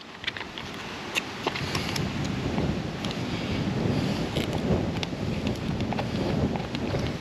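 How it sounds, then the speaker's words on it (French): Wind blowing outdoors beside a camper van, a steady rough rumble buffeting the microphone at close range for the whole stretch, with no voices. "Bon, il y a du vent aujourd'hui."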